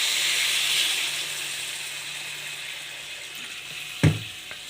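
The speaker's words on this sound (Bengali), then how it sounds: "এবারে আমি এর মধ্যে পরিমাণ মতন জল দেবো।" Water poured into a pan of cooked-down curry spice paste, giving a steady hissing, sizzling wash that holds throughout, with a brief sharper splash or clatter near the end.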